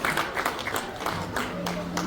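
A crowd at a Chhattisgarhi poetry and festival gathering claps for an honoured guest, steady close applause running throughout with voices mixed in.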